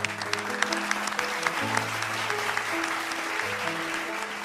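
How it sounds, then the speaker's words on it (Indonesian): Audience applause at an Indonesian community gathering, steady clapping with a faint melodic tone running underneath. "kita berikan tepuk tangan untuk Moza Alzena Raihan."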